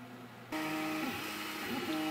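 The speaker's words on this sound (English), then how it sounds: "3D printing the mounting plate for the Arduino" A 3D printer prints a mounting plate for an Arduino, its motors starting up with a steady whirring hum and shifting tonal whines, close and moderately loud.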